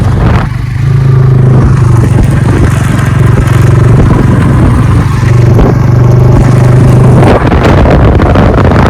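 A motorbike engine hums steadily while riding close through a narrow village street, a loud low drone with small rises and dips in pitch and some clatter and passing noise.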